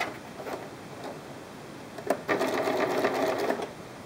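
A sewing machine stitches a seam on a bean bag in a short, close burst of rapid mechanical ticking that starts after a quiet stretch of faint handling sounds.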